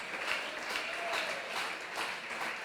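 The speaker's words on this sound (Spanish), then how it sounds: "Aplaude el nombre de Jesús" A church congregation claps together in rhythmic bursts, a dense roomful of hands pulsing roughly twice a second, moderately loud and fairly distant, with faint voices underneath.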